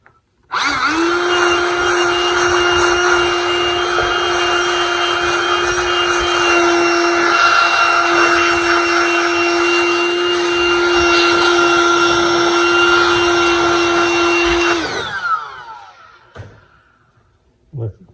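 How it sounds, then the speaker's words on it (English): Handheld power blower roars steadily and loudly up close for about fourteen seconds, blasting air through a pressure washer's air filter, with a strong whining tone, then cuts off and winds down. "I'm going to just take my blower and blow it out here."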